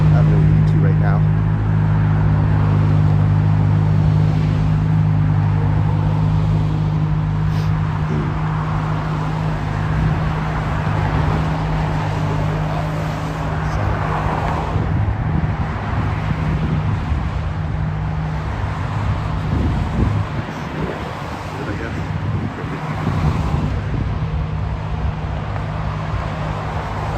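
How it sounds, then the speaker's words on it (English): Steady road traffic noise outside a shopping mall forms a continuous low rumble of passing cars, loud and constant, with a person talking over it throughout. "The biggest noise you'll hear right now is probably the traffic."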